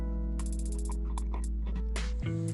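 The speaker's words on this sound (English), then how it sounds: "I removed the 4 flathead screws on the light switches" A screwdriver turns flathead screws out of a light switch, giving close clicking, ratcheting and creaking metal sounds in uneven bursts over a steady low hum, ending in a louder scrape, with no speech.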